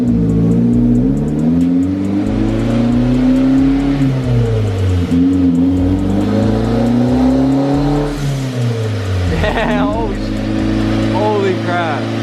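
Turbocharged 1ZZ engine in a Toyota MR2 Spyder revving loudly and continuously, its pitch rising and falling through several pulls with a whistling whine on top, while people talk briefly over it.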